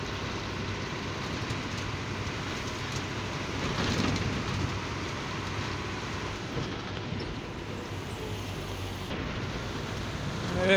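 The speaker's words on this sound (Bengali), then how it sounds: "কি বৃষ্টি হচ্ছে" Heavy rain pours down steadily over a waterlogged road, a dense, continuous hiss that swells slightly midway and stays loud throughout, with no voices.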